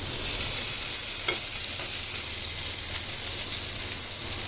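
Butter sizzles in a pan on a stovetop, a steady, loud hiss and crackle filling the whole stretch without pause, with a faint tap of a utensil near the start.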